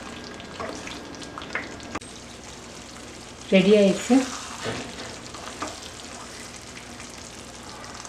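Paneer gravy bubbling and simmering in a pan, a soft steady sizzle throughout with a brief louder stir or pour in the middle, while someone speaks briefly.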